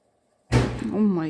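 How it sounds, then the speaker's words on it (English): After silence, a sudden heavy thump as a cat lands on a kitchen oven, followed immediately by a startled voice talking. "That's my cat jumping on my oven."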